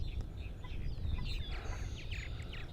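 Purple martins on eastern Long Island chirp and call in quick, faint bursts over a low background rumble, sounding at some distance with no voices.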